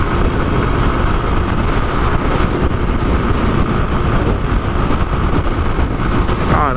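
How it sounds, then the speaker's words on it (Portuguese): A delivery rider's motorcycle engine roars steadily at high revs while riding at about 100 km/h, with loud buffeting wind noise mixed in, continuous and close throughout. "100 km nessa moto aqui dá 7 mil giros."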